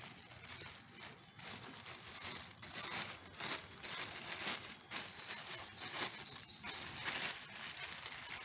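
A plastic polythene sheet crinkles and rustles continuously up close for several seconds, in irregular bursts of crackling as it is handled while setting up aloe vera seed trays.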